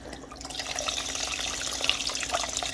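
Unsalted beef broth is poured from a carton into a pot for beef stew in a steady, close splashing stream that runs unbroken for a few seconds.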